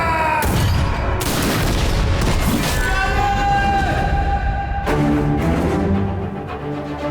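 Loud booming cannon blasts fire in succession over a dense, dramatic orchestral score in the trailer for the film Marakkar: Lion of the Arabian Sea, the explosions layered thickly with music.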